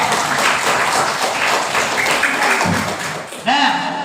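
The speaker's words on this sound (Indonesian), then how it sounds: "tepuk tangan untuk kita semua" A burst of group clapping in a classroom, fairly loud and dense, fading out before a voice starts speaking at the end.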